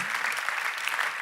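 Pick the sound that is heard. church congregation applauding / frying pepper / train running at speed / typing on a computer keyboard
church congregation applauding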